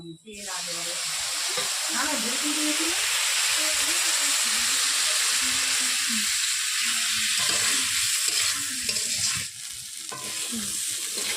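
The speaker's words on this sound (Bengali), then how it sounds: "সেই লঙ্কা বাটাটা এবার দেওয়া হবে।" Ground chili paste hits taro frying in hot oil, setting off a loud, continuous sizzle with stirring scrapes, while a voice talks briefly at the start.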